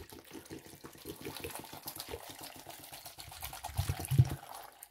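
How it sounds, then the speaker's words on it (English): Water pours into a blender of homemade celery juice, a soft, steady splashing trickle that grows a little louder and fuller toward the end. "I'm adding my juice and I'm adding so much water."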